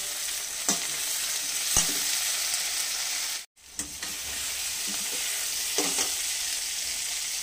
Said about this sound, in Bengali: ওর মধ্যে আমি টমেটো কুচি দিয়ে দিচ্ছি।